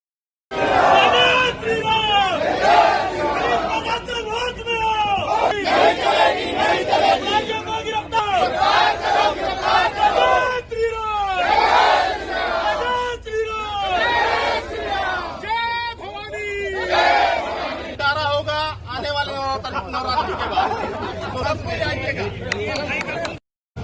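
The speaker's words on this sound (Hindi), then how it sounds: "बड़ी संख्या में हिंदू समाज के लोग एसपी कार्यालय पहुंचे और विरोध प्रदर्शन किया" A large crowd of Hindu community protesters gathered outside a superintendent of police office, a dense mass of voices shouting and chanting together, loud and close, continuous throughout with raised cries rising above the babble.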